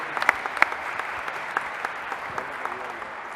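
Sparse, scattered clapping rises from the audience at a Senate forum marking 25 years of the San Andrés Larráinzar Accords, honouring the presiding panel, with individual claps standing out sharply in a hall.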